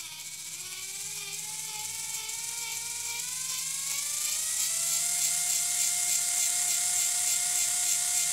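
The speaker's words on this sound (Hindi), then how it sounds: "अभी गियर मोटो के साथ टेस्ट करेंगे" A geared DC motor driven by a 10 A PWM speed controller whines steadily and close up, its tone rising as it speeds up, with a high electronic buzz layered on top.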